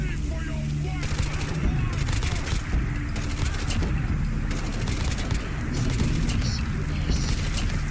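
Continuous rifle gunfire in a heavily modded Fallout 4 survival playthrough, with rapid shots and booming impacts crackling throughout and a voice talking over the firefight.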